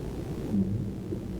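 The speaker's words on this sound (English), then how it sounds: "Whales." Deep whale calls from the Arcadia analog horror game: a low, steady rumbling drone with a brief moaning tone rising out of it midway, heard alone with no voices.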